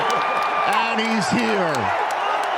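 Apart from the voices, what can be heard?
NFL Draft crowd cheering in Green Bay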